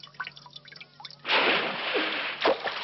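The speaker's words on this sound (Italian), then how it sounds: "Che mi ha versato dell'acqua sul viso!" Water splashes onto a face in an Italian animated cartoon, a sudden loud splash and dripping burst after a few faint watery ticks, with no talk.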